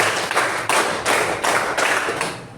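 A classroom group claps together in a counting game, sounding about five loud, broad unison bursts at a steady rhythm, with short gaps of room noise between them.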